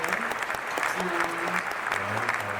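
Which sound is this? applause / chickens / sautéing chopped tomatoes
applause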